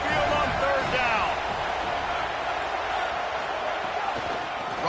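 Stadium crowd in a college football video game, a steady loud roar from the Tide fans at Saban Field on third down, with a commentator talking over it.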